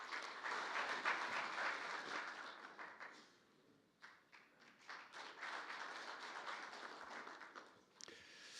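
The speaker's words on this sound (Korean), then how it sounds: "큰 박수로 맞이해 주시기 바라겠습니다." Audience at a debate forum in the National Assembly claps to welcome a district head, dense applause that thins and dips midway, then swells again before tapering off.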